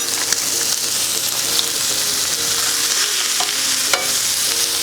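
A good knob of butter sizzles in a hot pan with a coffee-rubbed steak, a loud steady frying hiss with faint scraping and small spits and pops, no talk.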